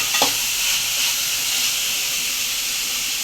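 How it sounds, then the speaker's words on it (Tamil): Beetroot sautéing in a pan, a steady close sizzle and hiss that runs throughout, with a brief stirring scrape near the start. "இப்போ பீட்ரூட்டுக்கு வந்து இந்த பக்கம் நம்ம வதங்கிட்டு இருக்குப்பா"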